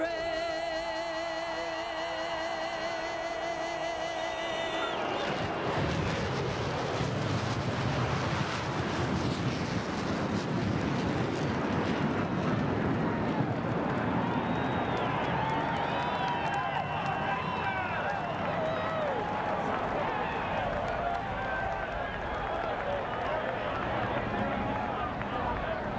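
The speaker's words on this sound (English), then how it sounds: "that perfectly timed flyover was by" Four F-16 Fighting Falcon jets sweep over Daytona International Speedway during pre-race ceremonies at a NASCAR Winston Cup race, a broad loud roar that rises after a few seconds and swells amid crowd noise and wind for the rest.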